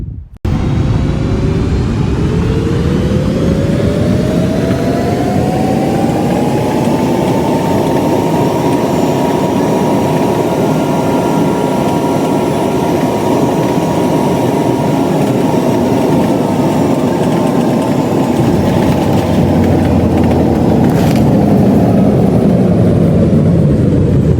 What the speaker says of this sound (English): Reasonably smooth landing considering how turbulent the flight was